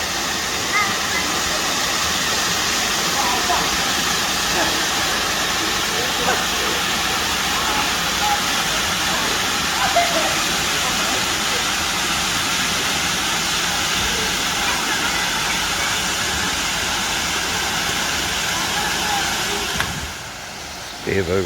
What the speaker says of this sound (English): So, we're at the waterfall.